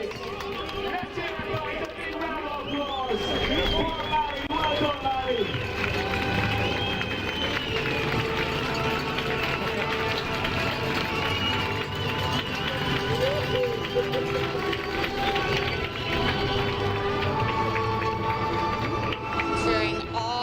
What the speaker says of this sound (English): Cheering all around for Marie Klegging Fenra.